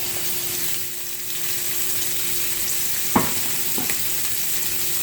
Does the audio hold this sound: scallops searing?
yes